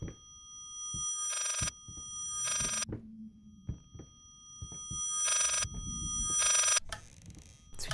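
An old-style telephone bell in the horror video game Layers of Fear rings repeatedly, four loud trilling bursts in pairs separated by quiet gaps with soft knocks and a low hum between them.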